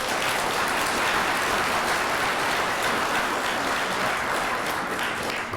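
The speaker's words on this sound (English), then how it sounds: "Please give them a round of applause" An audience at a university lecture claps steadily for donors, a thick, even wash of applause that holds loud throughout.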